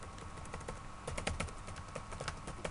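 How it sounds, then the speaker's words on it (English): Computer keyboard typing while writing code, a quick irregular run of crisp key clicks close by, with no talk. "And so we'll just finish typing this out."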